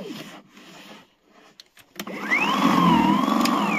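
A battery-powered snow blower is switched on after a few clicks of its safety button and handle, then spins up into a steady electric whirring whine with a rising and falling motor pitch, close and fairly loud.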